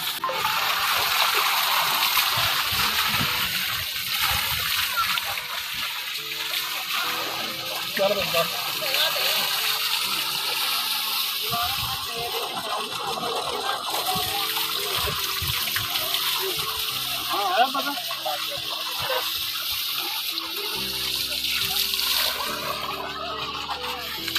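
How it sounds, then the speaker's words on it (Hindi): Water gushes steadily and loudly from a running tube well in rural Pakistan, a constant broad rush that lasts throughout while people talk nearby. "ये फुल ट्यूबवेल है, फुल नहीं खोला हुआ।"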